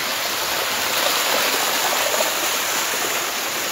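Rushing water pours steadily through a drain channel built by the local panchayat in flood-hit Kullu, Himachal Pradesh, a loud, even broadband wash with no pauses.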